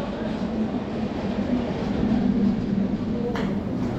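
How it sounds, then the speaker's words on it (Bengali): A Krishnanagar local train runs along the line out of Sodepur station, a steady close rumble of wheels and carriage noise that continues throughout without a break. "আমি সোদপুর স্টেশন থেকে সকাল 7:17-এর কৃষ্ণনগর লোকাল ধরেছিলাম।"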